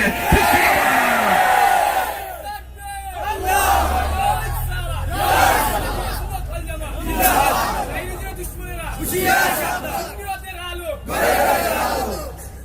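A large crowd at a religious gathering chants slogans in loud, rhythmic bursts, repeated call-and-response waves with a low background rumble.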